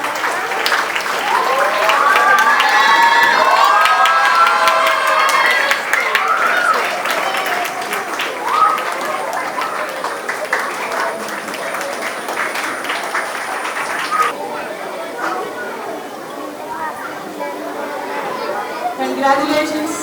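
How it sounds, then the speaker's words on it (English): A school investiture ceremony audience applauds and cheers for a girls' football team, loud dense clapping with excited shouts and chatter, easing into quieter clapping and crowd murmur as an announcer begins speaking near the end. "Let's give them a good round of applause."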